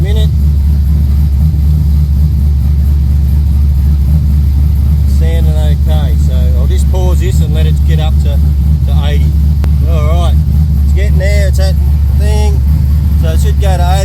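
A supercharged engine in the car called Mako, with its blower running at the back of the intake manifold, drones loudly and steadily at 71 degrees during dyno preparation, while someone talks over the constant low roar.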